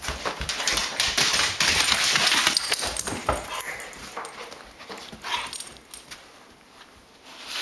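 A dog growls and makes rough, scratchy noises up close in a house, in irregular bursts that fade toward the end.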